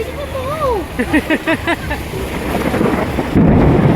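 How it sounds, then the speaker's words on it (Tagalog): Thunder rumbles during a storm in Singapore, a loud low roll that swells toward the end, while a person talks in the foreground with rhythmic vocal sounds over the top. "kumukulog na guys"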